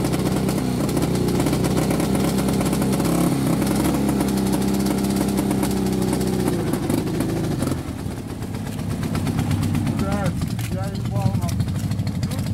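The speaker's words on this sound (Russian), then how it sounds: "Как они, мотоциклы, работают?" A Ural K-750 motorcycle engine runs steadily with a low, rumbling drone throughout a mud-riding outing, and people talk over it.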